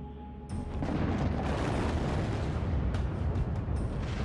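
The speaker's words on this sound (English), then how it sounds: "75 tons of ammonium nitrate explosive shatters the layer of sandstone covering the 15-foot-thick coal seam." A deep, sustained rumbling blast erupts after a brief quiet moment as 75 tons of ammonium nitrate shatter sandstone over a coal seam at a mine, a broad roar that holds steady at high loudness.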